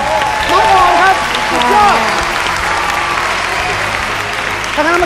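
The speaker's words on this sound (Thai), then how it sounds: "แต่ก่อนอื่นผมว่าเราปรบมือเด็กคนนี้ได้ไหมครับ" A studio audience at a televised children's talent show claps steadily for a young math prodigy, loud and sustained for about five seconds, with a host's voice cutting in over it.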